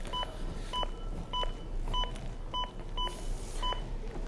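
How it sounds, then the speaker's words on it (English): An AED unit gives a steady run of sharp electronic beeps, evenly spaced about every half second, to pace CPR chest compressions, sounding close and clear over a soft background hiss. "as I do compressions, you're going to notice that the AED will start beeping"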